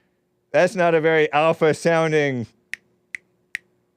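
A person imitates an eagle call with a sustained, wavering voiced screech lasting about two seconds, followed by three short, sharp clicks or snaps.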